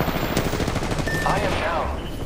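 Rapid automatic gunfire from a ranked arena shooter game, dense and continuous, heard close and loud and layered with other game effects.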